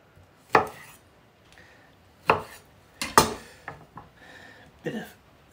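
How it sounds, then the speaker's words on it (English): A lime being quartered with a knife on a board, several sharp, close chopping knocks spaced unevenly with lighter cuts between, no talking. "I'm gonna add a lime, which I'm gonna cut just into quarters"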